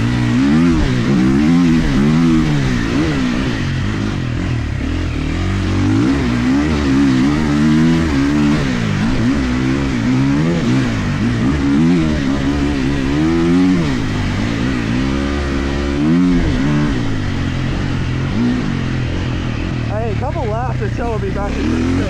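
A Triumph off-road motorcycle roars continuously on a slippery trail, its engine note rising and falling as the throttle opens, loud and close, with wind buffeting throughout.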